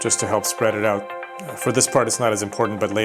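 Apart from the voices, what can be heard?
None of the usual background noises is heard.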